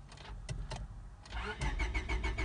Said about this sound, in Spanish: Estamos viendo que el carro estarea, pero no prende.